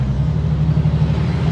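A fully restored International Scout drives along with its side exhaust giving a low, steady, throbbing engine drone that stays close and loud throughout, with no talking.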